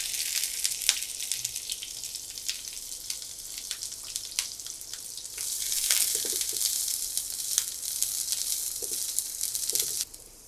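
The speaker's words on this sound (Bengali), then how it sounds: "পেঁয়াজটাকে ভেজে নিয়েছি।" Onion frying in a small amount of oil in a pan, a steady close sizzle with soft crackles, growing denser and louder in the second half before cutting off near the end.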